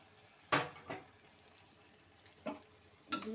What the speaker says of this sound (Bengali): দিয়ে দিচ্ছি চিকেনের পিসগুলো।